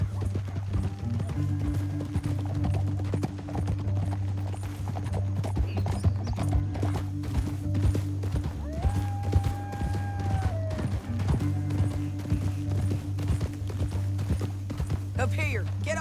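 Horses clip-clop at a steady trot and gallop across dusty ground in the Red Dead Redemption western game, hooves rhythmic and close, with an occasional whinny, over a low music drone and spoken dialogue.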